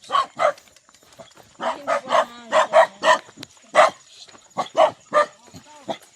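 Several high, yappy puppy barks in quick bursts, close by, with voices talking around them.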